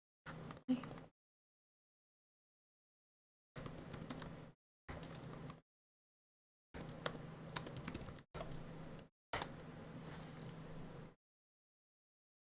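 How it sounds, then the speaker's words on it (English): Enthusiastic, fast typing on a computer keyboard is heard close up in several separate bursts with silent gaps between them. The keys clatter quickly and fairly quietly, and no one speaks. "It really is just if I'm enthusiastically typing it'll pick it up"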